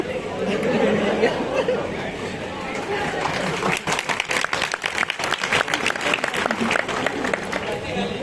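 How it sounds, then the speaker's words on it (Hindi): An audience claps and cheers, starting amid crowd chatter and swelling into sustained loud applause with dense overlapping claps. "लोग आपके लिए तालियां बजा रहे हैं।"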